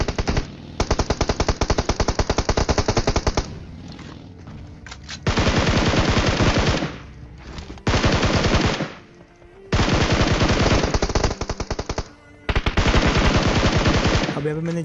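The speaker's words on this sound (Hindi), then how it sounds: "यहाँ पे भी एक बॉट था जिसपे दूसरी टीम फायर कर रही थी।" Loud automatic gunfire in the PUBG Mobile video game, long sustained bursts separated by short pauses, dense and continuous.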